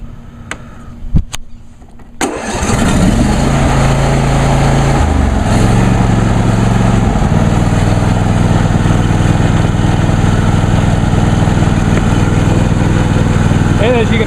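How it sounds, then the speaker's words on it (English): A John Deere D130 lawn tractor engine, started on choke, cranks briefly, catches and settles into a loud, steady, throbbing run close by, with a few clicks before it starts. "as you can hear, it sounds just like my grandfather's older MTD Husky lawn tractor, which has practically the same engine"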